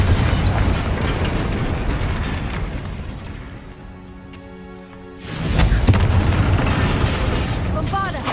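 A Confringo fire spell erupts in Hogwarts Legacy as a loud, booming explosion, with a sustained roar that dips into a brief lull before another heavy burst rumbles back in.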